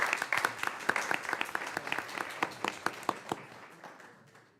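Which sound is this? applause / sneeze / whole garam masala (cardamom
applause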